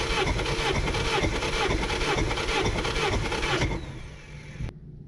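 A turbocharged Honda Civic R18 engine cranks over rhythmically on the starter during a compression test, a loud steady churning that cuts off abruptly near the end.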